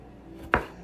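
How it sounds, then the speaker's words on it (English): One crisp knife stroke through tomatoes on a cutting board, a single close, sharp chop against a quiet kitchen background. "we're getting the tomatoes, we're getting them chopped down"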